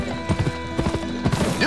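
Horse hooves gallop in a quick, rhythmic clip-clop through the Western video game Gun, with a brief whinny-like cry over a steady tonal background, fairly loud and close.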